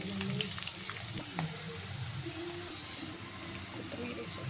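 Urad dal, chana dal and raw peanuts frying in a hot pan for lemon rice give a soft, steady sizzle beneath a person talking.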